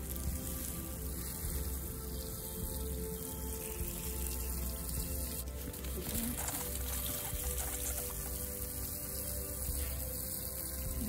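Water from a watering can pours onto freshly sown seeds in a fall garden bed, a soft continuous splashing trickle close by over a low steady background hum, with no talking.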